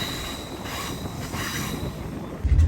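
An Alaska Railroad train rumbles steadily across a bridge, a continuous broad roar of wheels with a faint thin high squeal running over it, growing louder at the end.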